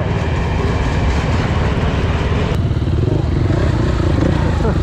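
A video-game train rushes past a motorcycle doing a wheelie, a dense, loud, continuous rumble and clatter of rolling wagons at close range, with voices faintly beneath it.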